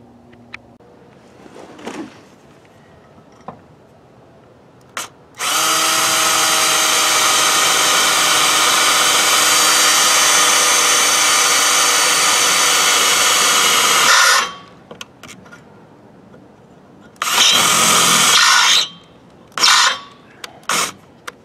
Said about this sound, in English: drill the 1/2 inch hole, clean up all the burrs